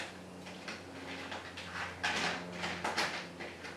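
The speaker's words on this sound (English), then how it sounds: "This is the sound of me digging through my big box of bolts" A hand digs through a big box of bolts in a garage, giving dense, continuous metallic rattling and clinking with a few louder jostles, close and moderately loud.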